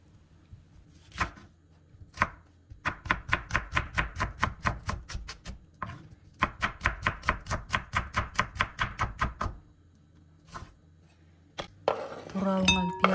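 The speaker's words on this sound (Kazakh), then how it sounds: "Енді осындай пияздарымызды өте ұсақ етіп турап аламыз." A knife finely chops onions on a board in rapid bursts of sharp, regular knocks separated by short pauses, ending with a few clinks of a dish.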